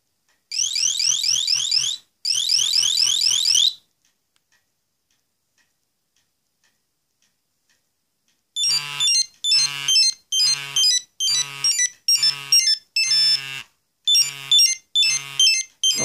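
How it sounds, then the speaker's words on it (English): A Nokia 7110 mobile phone plays its ringtone: two short bright melodic bursts, a pause of near silence, then the tune repeats in a steady run of chirpy electronic phrases, close and clear. "So obviously you can check your ringtones."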